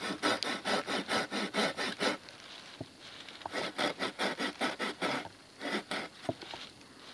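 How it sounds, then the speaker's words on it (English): A handsaw cuts partway into a piece of wood, producing three bursts of steady back-and-forth rasping strokes separated by short pauses, loud and close. "I'm going to start right here, and I'm going to saw halfway through."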